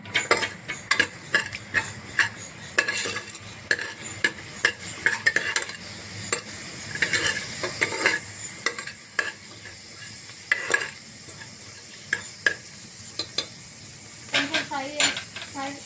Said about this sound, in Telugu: ఆయిల్ వేసుకున్న తర్వాత జీలకర్ర, ఆవాలు, మెంతులు వేసుకొని కొంచెం ఫ్రై చేసుకోవాలి.